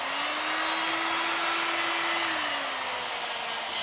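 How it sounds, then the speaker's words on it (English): A heat gun blowing on a frothy epoxy resin ocean wave pour makes a loud, steady airy whoosh with a humming motor tone that dips slightly near the end, no talking. "you don't need an expensive heat gun when you're doing this"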